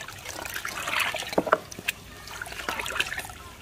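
Molasses being poured into water to activate a koi pond probiotic: a soft, uneven trickle and splash with a few brief drips and gurgles, close by and fairly quiet.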